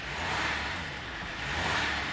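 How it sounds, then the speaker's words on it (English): Dodge Ram truck engine idling with a diesel particulate filter restriction and check engine light on, a steady, even rumble with a broad hiss that holds level throughout, no voices. "as you can hear, the engine is running"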